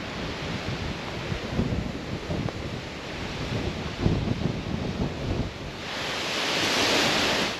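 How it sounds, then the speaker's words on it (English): Steady outdoor wind rushes and buffets against the microphone throughout, with gusty swells and a louder sustained blast near the end, heard while travelling through the Yukon toward Alaska. "At least the wind kind of pushes you along."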